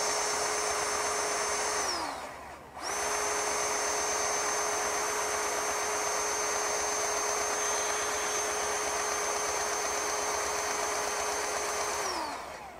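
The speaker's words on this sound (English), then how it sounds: "so we're already pumping grease" A Makita XPG01 cordless grease gun pumps grease with a steady high electric motor whine, dropping out briefly once before resuming and winding down near the end; close and alone.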